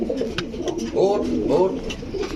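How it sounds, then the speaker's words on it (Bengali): A male pigeon coos in rolling, throaty phrases close by, repeating through the moment while someone talks over it. "এই যে নট ডাকতেছে"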